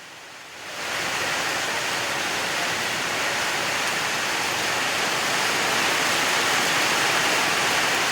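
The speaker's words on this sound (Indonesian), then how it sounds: "Hujan." Heavy rain falling outdoors during tree felling, a loud, steady, unbroken hiss that swells in after a brief quieter start and continues alone.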